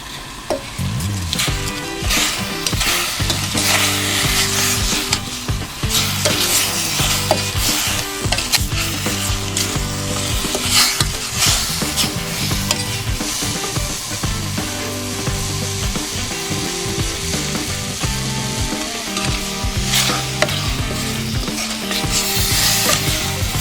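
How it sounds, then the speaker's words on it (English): Boiling strawberry jam stirred over a fire, a continuous bubbling sizzle with repeated scraping stir strokes, close and fairly loud, no voices. "So you boil it for like 20 minutes and you don't go anywhere, you keep stirring."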